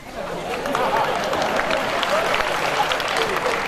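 Audience applause rings out at a Marathi kirtan gathering in Jalgaon, a dense steady clapping from a crowd that holds at an even level throughout, with a murmur of voices mixed in.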